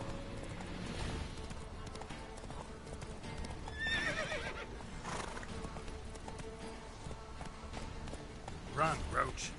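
Roach, the horse in The Witcher 3, gallops with rapid rhythmic hoofbeats and lets out several neighs and whinnies amid game sound, while a voice speaks over it.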